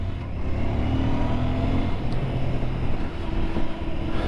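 Royal Enfield Interceptor 650 motorcycle on the move, a steady low engine drone with rushing wind noise, moderately loud and continuous, with no speech.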